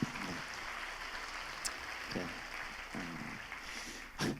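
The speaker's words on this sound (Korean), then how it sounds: "네, 우리 박수 한번 드릴까요?" A congregation at a New Year Daniel prayer gathering claps together in a soft, continuous, fairly distant patter, broken by a few low murmurs and brief sharp noises.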